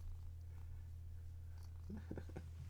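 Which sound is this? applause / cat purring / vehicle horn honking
cat purring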